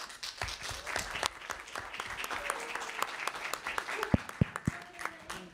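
Audience applause in a conference workshop room on digital ID, as a session is handed to the next speaker; steady crowd clapping with sharp individual claps throughout, moderately near, with voices heard faintly over it.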